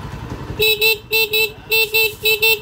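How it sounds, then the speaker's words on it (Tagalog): A motorcycle horn beeps seven times in quick, uneven bursts, loud and close, over a low idling engine, the motorcycle's battery somewhat weak. "Busina. Busina."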